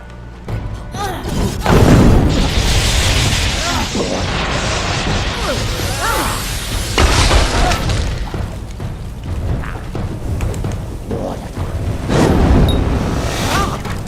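Heavy explosive blasts and crashing impacts boom repeatedly in the Kingdoms of Amalur action RPG, several loud bursts rolling over a dense, rumbling battle din.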